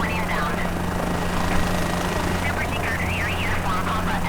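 A helicopter on a sightseeing tour over Brazil, with a steady loud rotor and turbine drone filling the cabin throughout, plus a faint intermittent voice over the radio.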